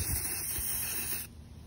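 Spray paint hisses from a can while coating a wine glass for hydro dipping, a steady close hiss lasting over a second before cutting off into quieter room noise.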